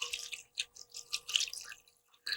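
Water splashes and drips into a pot holding rhubarb, sugar, a cinnamon stick and vanilla, heard as a close series of short, irregular splashy bursts with brief gaps between them.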